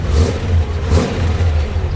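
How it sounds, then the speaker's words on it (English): A 1967 Chevrolet Corvette engine idles steadily around 800 RPM, a close, even low rumble with no talking over it. "Idling just nice, right around 800 RPM."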